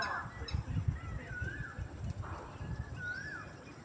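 A peacock hidden in a forest gives repeated honking calls, rising and falling cries at moderate distance over steady background rustle and low noise.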